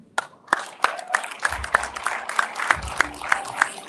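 A small conference audience claps after a leadership speech, giving sparse, uneven, fairly close hand claps that thin out and pick up again over a few seconds.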